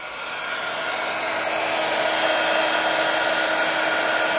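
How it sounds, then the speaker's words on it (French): A heat gun blows steadily while melting embossing powder and glitter on an enamel plate, a continuous close, loud airy roar that swells slightly at the start and then holds even with no talk. "je commence à faire réchauffer un petit peu mon heat gun"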